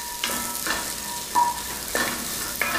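Onions sautéing in fat rendered from beef short ribs: a close, steady sizzle broken by several bursts of stirring scrapes, with no voices.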